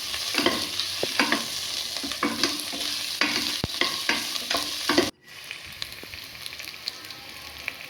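Crushed garlic and spices frying in a pan for chicken biryani, a dense close sizzle under repeated spatula scrapes, briefly cutting out before the sizzle resumes more quietly.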